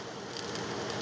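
Oil heating in a pan for tempering Marathi dal (varan): a steady, close, fine crackling sizzle lasting about a second, even and unbroken, with no talking.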